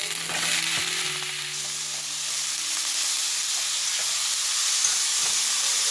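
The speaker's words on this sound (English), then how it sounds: "We are going to saute the onions and mushroom until it's soft." Mushrooms and onions sautéing in oil in a pan over medium-high heat give a loud, continuous sizzle close by, with a faint hum underneath and no talking.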